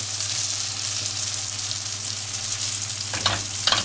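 Almond cigar pastries, rolled and filled with almonds, honey and orange blossom, fry in hot oil with a constant bubbling sizzle, joined near the end by a couple of brief stirring clatters.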